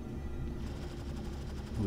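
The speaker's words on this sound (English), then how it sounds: "Oh, he's definitely firing at me though." During a Star Citizen space battle, an enemy ship fires in rapid, repeated bursts like machine-gun fire. The shots are muffled and run steadily under engine hum, with a voice speaking over them.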